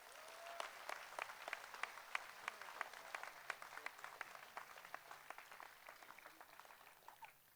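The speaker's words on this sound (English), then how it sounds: "Let's give another hand of applause for that." Scattered applause from a commencement audience after a Class of 2016 speech at Fairmont Preparatory Academy, heard faint and distant, with individual claps popping out irregularly over a thin, quiet bed of room noise.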